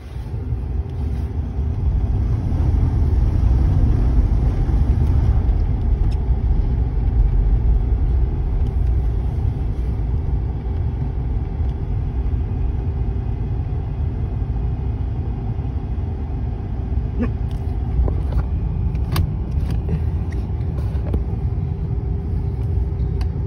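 An old rear-wheel-drive car without positraction sits stuck in snow, its engine droning loudly and steadily as one wheel spins, holding a constant rumble for over twenty seconds with no talk.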